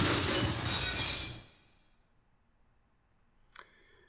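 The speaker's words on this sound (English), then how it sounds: "One of the lights from almost directly above Shimada came crashing to the floor with tremendous force" In the Corpse Party horror video game, a ceiling light smashes to the floor, a loud noisy crash that decays over about a second into near silence, followed by a faint brief click.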